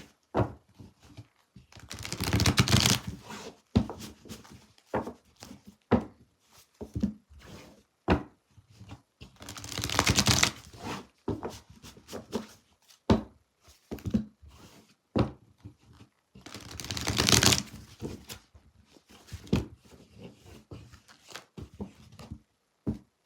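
Repeated bursts of tarot cards riffling and shuffling close by, every few seconds, with soft taps and knocks of cards being squared between them.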